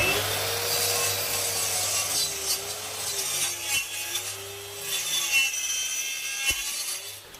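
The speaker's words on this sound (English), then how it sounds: "I'm cutting a strip that's slightly narrower than the rail" A tracksaw cuts a narrow strip from a sheet of plywood, giving a steady whirring buzz with a rasping edge that continues through the whole stretch, close up and alone.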